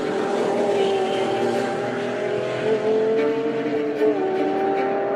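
A Lexus LFA's naturally aspirated 4.8-liter V10 engine, making 553 horsepower, sings with a smooth, sustained high-pitched tone that holds steady and shifts slightly in pitch, loud and close throughout.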